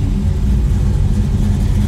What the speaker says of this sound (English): In neutral, we're idling about 750-800 RPMs.